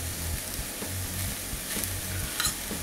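Lean, nearly fat-free ground beef fries in a pan with a soft, steady sizzle, along with recurring low scraping thumps as it is stirred, close and fairly quiet.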